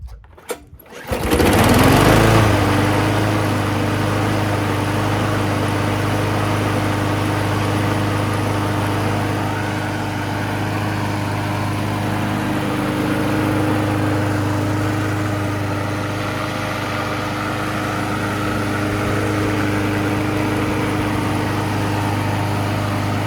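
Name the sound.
Craftsman lawn mower engine running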